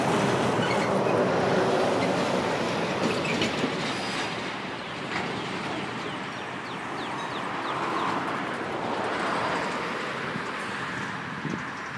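Norfolk Southern freight train hauling old and new autoracks, including a Conrail autorack, rolling past: continuous loud rumble with rhythmic clickety-clack of wheels over rail joints and faint squeal, sustained throughout.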